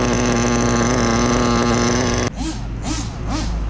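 A nitro RC car engine with minor running issues screams at a steady high pitch, loud and close, then cuts off abruptly to a rougher, rising and falling buzz as it revs in short bursts.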